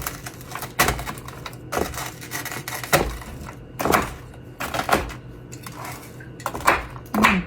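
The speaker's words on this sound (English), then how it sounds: "I'm going to chop these up a little bit." A knife chops frozen food on a board in sharp, heavy strikes roughly once a second, loud and close, with no talking.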